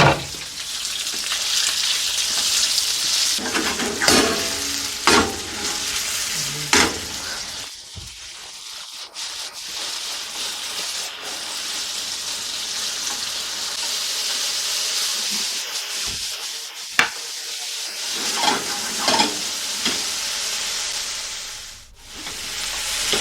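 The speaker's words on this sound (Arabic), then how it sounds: "شغلنا الغاز، مقلايتنا، شوية زيت نباتي، وبدنا ننزل بالدجاجات اللي قطعناهن" Chicken pieces fry in vegetable oil in a pan on a gas stove, a loud continuous sizzle and hiss with occasional clatters and scrapes as the pieces are stirred and shifted.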